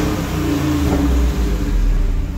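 Loud, close, steady rumble from the V8 performance exhaust of a 2021 Jeep Wrangler Rubicon 392, running with a slight rise in revs and no speech.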